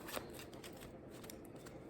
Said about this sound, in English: Quick shuffle, guys, sorry.